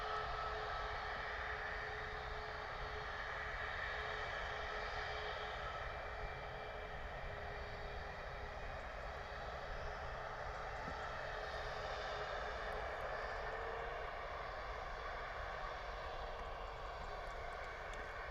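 ATR turboprop airliner taxiing to its gate at Bristol airport, a steady, distant engine drone with a tonal whine that holds fairly constant throughout, with no talk.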